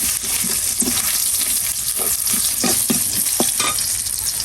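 Onion, chili and garlic frying in oil: a loud, close, continuous sizzle broken by repeated scraping and knocking strokes from a stirring spoon, with no speech.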